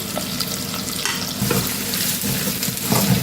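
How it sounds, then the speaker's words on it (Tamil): Onion, curry leaves and cumin fry in hot oil for a prawn thokku, giving a loud, dense, continuous sizzle with stirring rustles swelling toward the end, near and alone. "இது நல்லா பொரியட்டும்"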